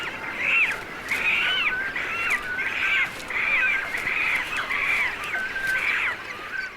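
Cormorants squabble over nesting places in a South African colony, giving harsh, repeated croaking calls in steady bursts that carry loudly over a dense background of the colony.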